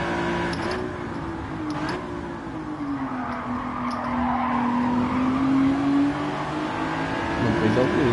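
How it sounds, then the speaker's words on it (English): Race cars in the video game Gran Turismo 7, with a steady engine drone and a drawn-out tire squeal rising and sliding across most of the stretch, loud and continuous. "An aggressive battle allows Mr. Passat, who does have himself a bit of speed, to get away."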